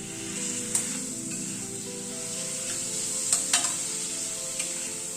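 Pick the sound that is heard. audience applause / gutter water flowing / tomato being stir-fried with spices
tomato being stir-fried with spices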